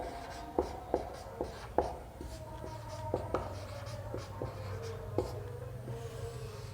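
Chalk or marker writing on a board during a Hindi grammar lesson, with a series of close, sharp taps and scratchy strokes over a steady low hum.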